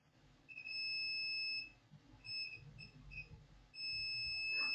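Multimeter continuity tester beeping while probing a Samsung Galaxy A3 Core phone motherboard with a short on the 5-volt line; steady high electronic tones sound in several bursts, some long and some brief, over quiet room noise.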